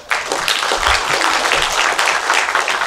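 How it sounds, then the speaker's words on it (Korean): Audience applause at a Mr. Gangwon bodybuilding contest: a dense, steady burst of many hands clapping from a crowd in a hall, loud and sustained throughout without voices over it. "여러분 다시 한번 큰 박수 부탁드리겠습니다"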